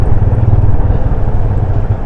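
A motor engine runs steadily and fairly loud throughout, a low rumbling drone with no pauses or talking.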